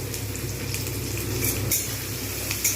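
Chicken and potatoes fry over medium-high heat in a pan, a dense steady sizzle with a low hum beneath and brief stirring clinks near the end, close by and without speech.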